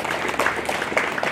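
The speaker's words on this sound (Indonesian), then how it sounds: "Mari kita tepuk tangan dulu" Audience at a Papuan speech event giving brief applause, a soft continuous clapping wash with scattered louder hand claps, somewhat distant.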